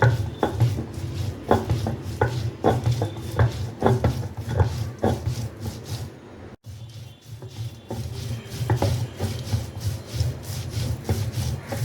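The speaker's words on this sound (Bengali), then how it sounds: "পেঁয়াজু বানানোর জন্য বেটে নিচ্ছে। বেশি মিহি করতে হবে না, একবার বাটলেই হবে" Soaked lentils are ground into a coarse paste for piyaju with rhythmic, close rubbing and scraping strokes, loud and repeated, pausing briefly midway before resuming.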